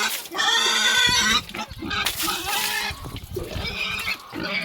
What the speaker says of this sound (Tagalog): Iniinitan na ang aking baboy.